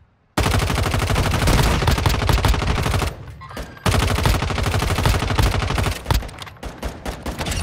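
Dense automatic weapon fire in the mobile shooter Warzone Mobile, played on an iPad Pro M2, hammers out in long rapid bursts, breaking off briefly midway before resuming at close range.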